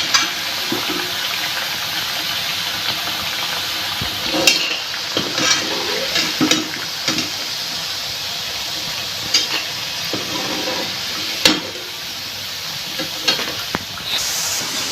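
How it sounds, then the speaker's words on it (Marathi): Coriander vadi fritters deep-frying in hot oil, a steady close sizzle with crackling pops and brief bursts of bubbling, no talk. "मीडियम असं तळून घ्यायच्यात"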